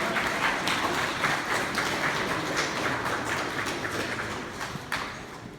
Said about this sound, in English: Let's give them a round of applause for the Justice League of America.